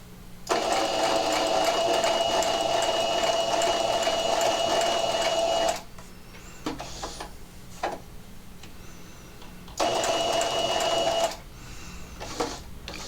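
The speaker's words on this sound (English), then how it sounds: "So now we're going to sew to that dot." Sewing machine stitching pieces of a fabric Christmas tree along a quarter-inch seam, two loud steady whirring bursts of stitching separated by quieter pauses with faint handling clicks.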